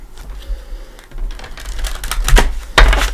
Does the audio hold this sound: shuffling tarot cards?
yes